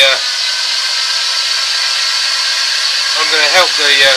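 A heat gun blasts a steady, loud roar of hot air over sealer on a turned laminated sycamore and purple heart wooden bowl in a cold workshop, continuous throughout with a voice starting near the end.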